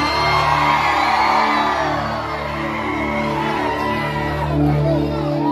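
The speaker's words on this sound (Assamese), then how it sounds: "ৰাইজে ইমান ধুনীয়াকৈ চিঞৰি আছে" A large crowd at a Rongali Bihu concert in Sarupathar shouts and cheers in a steady, roaring wash of noise.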